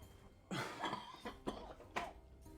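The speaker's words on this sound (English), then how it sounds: "I still have a cough" A person with a lingering cough from the flu coughs several times in a row, a sharp first burst followed by shorter hacks, close and fairly quiet.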